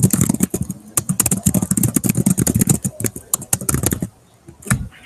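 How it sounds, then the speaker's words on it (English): Loud, rapid clacking of keys on a computer keyboard in quick bursts, close up, stopping briefly near the end before a few more taps. "I'm probably typing really loudly again"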